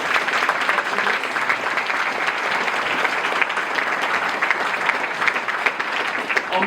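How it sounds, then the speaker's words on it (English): An audience applauds a 17-year-old award winner from the Philippines at an event in London: dense, steady clapping fills the hall at a constant, fairly loud level throughout. "Give her a big round of applause."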